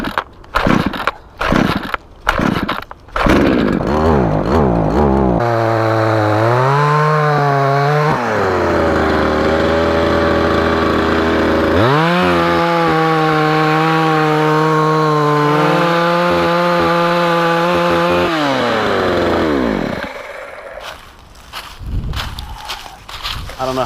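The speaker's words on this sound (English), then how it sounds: "I'm carrying a fucking 30-30 and a chainsaw that's too big for this nonsense." A chainsaw clears a forest trail, starting with sharp rapid pulls and sputters, then revving into a loud sustained whine that dips and climbs as it bites into wood before cutting out near the end.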